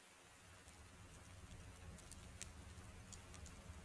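Steady rain in the Card Survival Tropical Island video game patters softly and evenly, a faint continuous hiss with scattered tiny ticks and drips and no talking.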